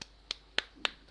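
A class clapping hands, four evenly spaced sharp claps about a quarter second apart, fairly faint and alone against a quiet background.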